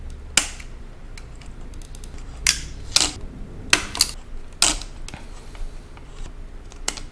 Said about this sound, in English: just take a knife and basically just push off or cut off the mushroomed portion so that we can remove this chrome piece